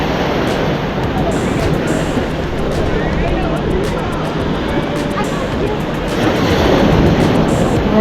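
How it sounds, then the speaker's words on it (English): Rough ocean surf rolls in at Venice Beach, Florida, a continuous broadband roar of breaking waves with wind buffeting, loud and steady throughout. "wow, those waves, dang, those are rough"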